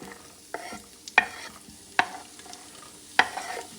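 Diced mirepoix sizzles and is stirred in a hot pan for a French-style lamb stew, a soft continuous frying hiss marked by three or four sharp spoon scrapes and clacks against the pan, with no speech.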